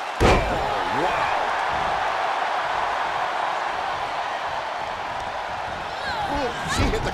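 In the WWE 2K22 wrestling video game, a wrestler slams hard into the ring corner. A sharp thud comes at the start and another near the end, over a constant arena crowd roar, with commentary voices speaking.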